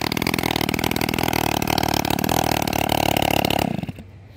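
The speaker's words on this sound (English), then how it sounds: "We don't want to let it run too long without the exhaust." A custom-built motorcycle fires up for its first start with no exhaust fitted, running loud and raw with a rapid, steady rumble before cutting off abruptly near the end.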